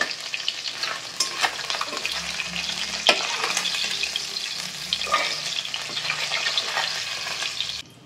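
More tengra fish fry in hot oil, giving a dense, continuous sizzle up close with occasional sharp spatters and utensil clicks, then stopping abruptly at the end.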